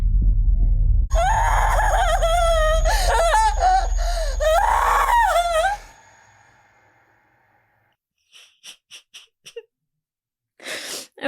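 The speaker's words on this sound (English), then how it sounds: "That scream felt painful." Scream from an episode of The Last of Us TV series, a loud anguished drawn-out scream with wavering pitch for several seconds that cuts off abruptly, followed by near silence and a few faint, brief bursts.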